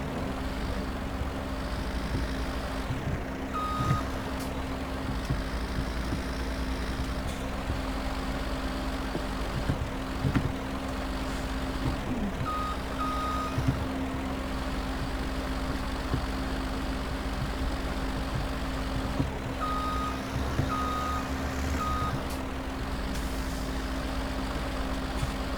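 A Ford truck in Farming Simulator 2017 idles with a steady low engine drone throughout, while a few short, faint beeping tones recur in small groups.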